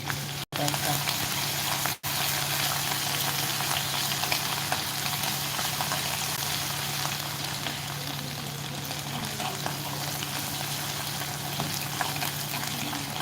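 Chopped onion frying steadily in a hot pan, a dense, continuous sizzle that stays loud and even throughout, with a low hum underneath and two brief dropouts near the start.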